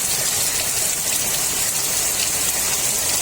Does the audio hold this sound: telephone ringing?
no